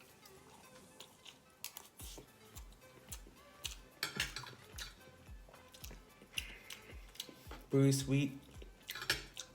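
Cutlery clinks and chewing sounds come from someone eating homemade longanisa with rice, soft and close, under occasional quiet talk.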